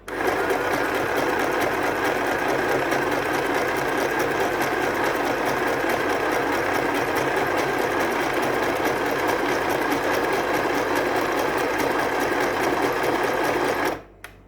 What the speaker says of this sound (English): hopefully I can sew straight. So it's just a matter of doing a little zigzag all the way around